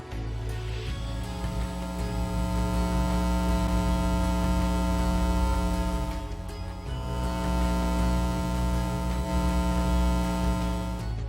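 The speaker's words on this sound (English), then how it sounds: "we now can monitor EMF through audio as well, so we can actually hear what the audio sounds like" An EMF meter's audio output during a paranormal investigation at the Mountain Lake Hotel gives a steady, loud electrical hum rich in buzzing overtones. It runs continuously, dips briefly near the middle, then resumes with no talking.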